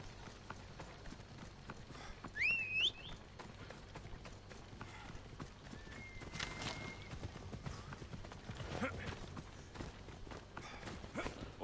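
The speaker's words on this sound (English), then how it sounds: "Come on, horsey." A horse gallops in Assassin's Creed Odyssey with faint, quick clip-clop hoofbeats. A brief whinny-like cry comes near the start, over a quiet ambient game background.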